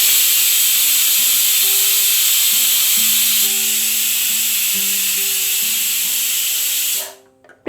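A pressure cooker used for mutton Afghani pulao vents steam in a loud, continuous hiss that stops abruptly near the end, with a faint stepped melody in the background.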